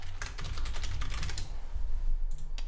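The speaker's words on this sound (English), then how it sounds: "type in the URL" A URL is typed on a computer keyboard, a quick run of close, crisp key clicks with a short pause and a few final taps.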